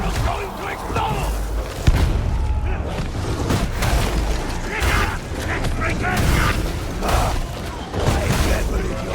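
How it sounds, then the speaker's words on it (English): A barrel blows up during combat in Warhammer 40K Darktide, heavy booms and thuds mixed with mechanical clatter and gunfire, loud and busy, with a voice talking through part of it. "That barrel's going to explode!"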